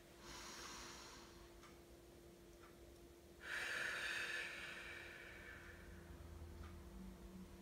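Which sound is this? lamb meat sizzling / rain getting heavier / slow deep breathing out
slow deep breathing out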